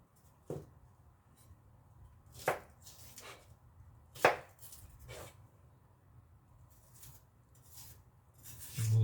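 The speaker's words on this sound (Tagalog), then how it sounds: "Slice na natin yung sibuyas." An onion is sliced with a knife on a board while paksiw na pampano is prepared, giving a few sparse, separate crisp cuts spaced a second or two apart against a quiet kitchen background.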